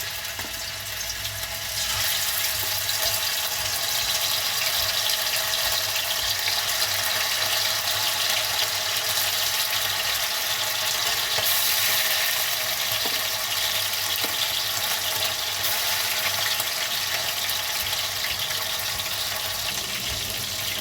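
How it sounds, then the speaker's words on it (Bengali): Chicken pieces for butter garlic chicken fry in hot oil with a steady, bright hiss. The sound swells slightly after the first couple of seconds, then holds evenly and close throughout, with no voices. "তেলটা গরম হয়ে গেছে, এবার আমি চিকেনের পিসগুলো একটা করে দিয়ে দেব।"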